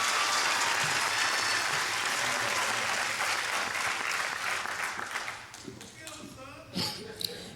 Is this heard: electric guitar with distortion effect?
no